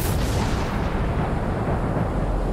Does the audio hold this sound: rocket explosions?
yes